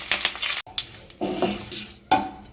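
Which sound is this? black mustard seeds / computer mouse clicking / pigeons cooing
black mustard seeds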